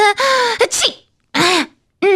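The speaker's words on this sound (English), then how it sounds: "Someone must be talking about you if you're sneezing, Miss Popular." A female character in the Persona 5 Royal video game sneezing, a loud close voiced outburst with a sharp breathy burst, followed by further brief vocal sounds.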